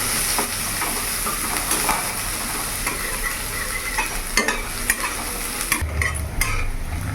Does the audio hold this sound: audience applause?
no